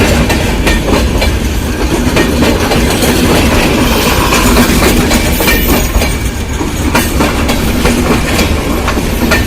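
A passenger train in Bangladesh on the day before Eid rumbles past close by, with continuous loud wheel clatter and rhythmic clickety-clack over the rails throughout.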